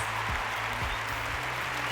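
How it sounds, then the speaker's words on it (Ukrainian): Festival audience applauding at the Black Sea Games 2023 as a band takes the stage, a steady dense wash of clapping over a low hum of stage music. "Ваші оплески!"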